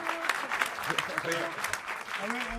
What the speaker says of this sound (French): On peut applaudir Safia Azedine